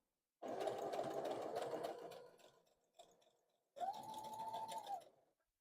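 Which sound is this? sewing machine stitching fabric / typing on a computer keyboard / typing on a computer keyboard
sewing machine stitching fabric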